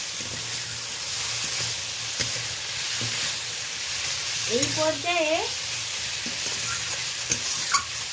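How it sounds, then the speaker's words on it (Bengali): Large shrimp sizzle steadily in a pan with spices, a constant frying hiss broken by occasional scrapes of stirring, while a voice speaks briefly in the middle. "এই দেখুন চিংড়ি মাছটা বেশ ভাজা ভাজা হয়ে গেছে।"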